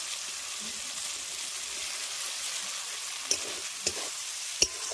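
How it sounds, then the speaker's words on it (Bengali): Boiled dal stirred into spiced masala in a hot pan while making egg tadka, giving a steady, even sizzle with a few short scraping clicks of the spoon near the end. "এবার সেদ্ধ করে রাখা ডালটা দিয়ে ভালো করে কষিয়ে নেব"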